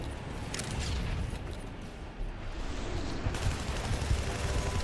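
Bursts of rapid gunfire crackle continuously, dense and loud, with a brief lull before the shooting resumes.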